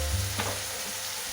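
Prawns frying in a pan of hot oil give a steady close sizzle with a brief sharper crackle early on, no talking.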